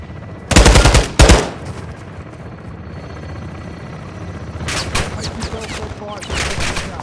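An aircraft gun run in the Modern Warfare II campaign, with two loud sustained bursts of rapid cannon fire early on and more bursts later over a helicopter-like engine drone.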